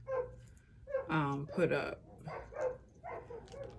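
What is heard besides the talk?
neighbors' dogs barking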